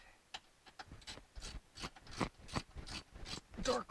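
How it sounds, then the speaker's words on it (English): A torque wrench clicks and ratchets while working on a 1957 Chevy with a Muncie 4-speed and Hurst shifter, giving a quiet, uneven series of mechanical clicks and ratcheting ticks close by. "Torque wrench."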